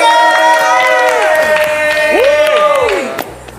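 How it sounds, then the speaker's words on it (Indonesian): Audience at a Marapthon fan event with actresses Raline Shah and Niken Anjani erupts in loud, close cheering and whooping, high voices rising and falling over scattered clapping. "Tepuk tangan sekali lagi."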